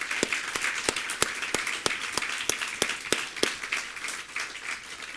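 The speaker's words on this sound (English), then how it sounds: "Let's give them a warm round of an applause." A dinner crowd at a council awards event claps for honoured guests: a soft bed of applause punctuated by sharp, regular individual claps, moderately distant and sustained throughout.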